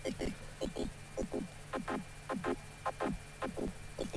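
Redux downsampling effect crushing a synth line, producing gritty, pulsing bursts in an uneven rhythm, each with a bit-crushed, buzzy texture over a low constant hum.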